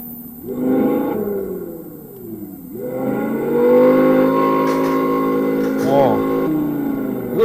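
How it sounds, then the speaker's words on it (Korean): Synthetic engine sound played through the speaker of an electric delivery scooter, a loud rising and falling motor-like drone with harmonic revving swells, heard close with people talking over it. "이게 엔진 소리나 모터 소리가 아니에요. 스피커 소리예요."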